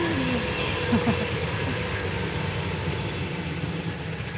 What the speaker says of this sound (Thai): รถไฟไปแล้ว